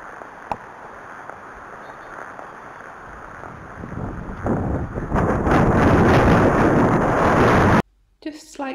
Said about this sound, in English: Just slightly turning the corner and it's so windy.